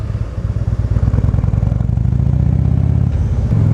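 A 2014 Harley-Davidson Street Glide motorcycle idles close by with a deep, loping V-twin rumble, its steady lumpy beat filling the short stretch without talk.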